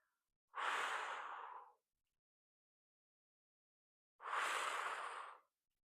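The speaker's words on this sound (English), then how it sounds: "Breathing out as you lift and in as you lower." Two long, loud breaths, slow and evenly spaced with silence between, from someone doing standing banded arm lifts in a cardiac rehab exercise, breathing out on the lift and in on the lowering.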